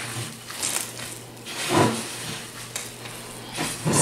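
Dough made with butter is worked by hand with warm milk added gradually, giving soft, irregular squelching and stirring swishes in short bursts, close up and moderately loud, without speech.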